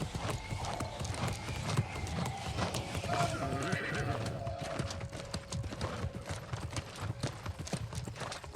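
Horse hooves clip-clopping in the video game New World, a steady run of hoofbeats with occasional whinnies, heard close under a person talking.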